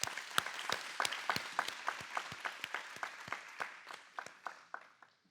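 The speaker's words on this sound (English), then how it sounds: "let us give them a round of applause." An audience at a research talk on healing and establishing trust claps in a moderate round of applause, distinct individual claps forming an uneven rhythm that thins out toward the end, fairly faint and with no talk.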